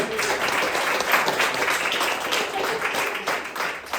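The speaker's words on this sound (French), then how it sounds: "Vous avez un applaudissement pour Vincent, s'il vous plaît." A comedy club audience at a French stand-up show applauds comedian Vincent, loud, dense clapping filling the room throughout, with some voices mixed into the crowd noise.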